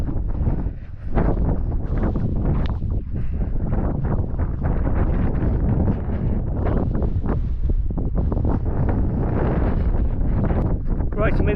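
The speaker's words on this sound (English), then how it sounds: "It's a bit windy up here and the wind is cold." Cold wind buffets the microphone on a hilltop at a trig point, a loud, gusty rumble with flapping bursts that continues throughout.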